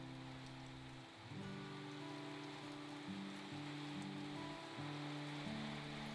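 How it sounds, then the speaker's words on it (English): Quiet, steady rain hisses softly and continuously, with gentle sustained musical tones sounding underneath. "I'm not complaining, I love the rain"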